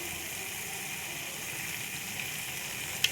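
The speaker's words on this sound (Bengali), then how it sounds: "এবার আমি এর মধ্যে জল দিয়ে দেবো" Water is poured into hot oil left from frying paneer, giving a steady, even hiss of sizzling that holds without a break, ending with a small tap.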